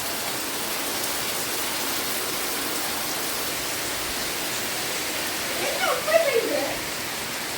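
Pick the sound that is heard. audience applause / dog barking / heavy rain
heavy rain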